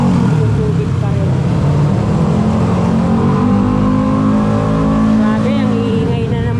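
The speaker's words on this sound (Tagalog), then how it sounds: "Grabe, ang iingay na ng mga motor." Motorcycles with modified mufflers rev loudly and continuously beside the Pasig River near Jones Bridge, a dense, roaring engine din that fills the whole stretch, with a voice faintly beneath.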